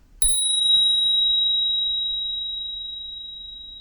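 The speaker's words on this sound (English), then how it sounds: "I've added a spur bell right here, which is the best bicycle bell because it has a really long sustain and it's really loud." A Spurcycle bicycle bell on an e-bike gives a single loud, bright ring that sustains and slowly fades over several seconds, close and alone.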